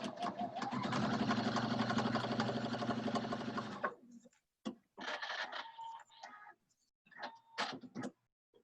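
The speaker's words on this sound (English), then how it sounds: "Let's take this, we'll go to the sewing machine" Sewing machine stitching a half-square triangle quilt block with green thread: a loud, steady mechanical whirr of rapid needle strokes for about four seconds, then stopping, followed by short bursts of clicking and handling noise.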